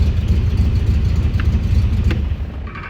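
Engine of a 1967 MG car running steadily, a low rumbling idle that holds close and even throughout, easing slightly near the end.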